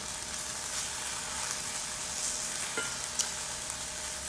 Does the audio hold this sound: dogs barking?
no